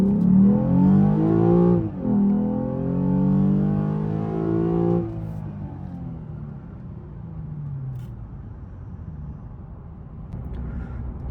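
A tuned 2017 Lexus IS 350 with an RR Racing install accelerates hard from 0 to 60 in regular mode. The engine note climbs through rising revs, with two clear gear shifts before it settles into a steady cruising whir.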